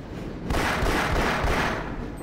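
A gunshot fired at a sign to switch a rail track in Half-Life, heard as a dense, loud burst of noisy blasts with rumbling low end, sustained for about two seconds with no talking.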